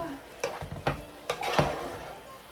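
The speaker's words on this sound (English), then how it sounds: "And then you stir that up." A pot of salmon with squeezed orange juice being stirred, with a few sharp scrapes and knocks of the spoon against the pot over a soft background, close and moderately quiet.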